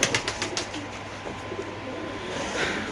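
Racer pigeons coo in low, rolling calls close by, and a brief flutter of wings comes at the start over steady room noise.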